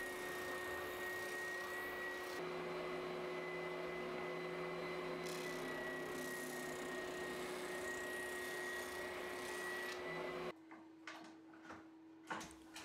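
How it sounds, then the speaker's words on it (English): Spindle sander running steadily as it cleans saw marks off a wooden bath tray panel, a constant close motor hum with a whine that cuts off near the end, followed by brief clunks. "Then I can use the spindle sander to clean up all the saw marks."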